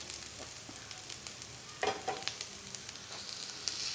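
Chicken chinthamani sizzles and fries in a pan with fenugreek and garlic, a soft continuous crackle with scattered pops and occasional stirring scrapes, fairly quiet and without talk.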